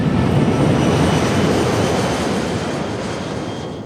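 A departing airplane in a film scene, its steady broadband engine roar filling the short span and easing slightly toward the end, with no voices.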